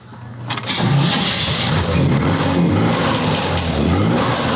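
A 1954 Corvette engine idles steadily and close by after a change to old Harley-Davidson panhead spark plugs, with a continuous low rumble that holds even throughout.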